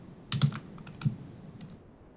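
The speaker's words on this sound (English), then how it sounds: "We type in the word Python and then the name of the file." Typing a Python run command on a computer keyboard: a short flurry of close keystrokes, then a couple of isolated key presses before falling quiet.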